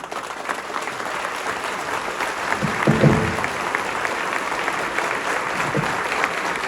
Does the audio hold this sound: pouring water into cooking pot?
no